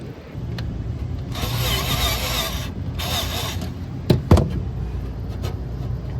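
A residential HVAC unit, running short cycles and recently fitted with a replacement contactor, starts up with a steady mid-range engine-like hum lasting several seconds, followed by two sharp clicks or thumps near the end.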